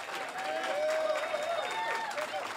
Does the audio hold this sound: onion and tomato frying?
no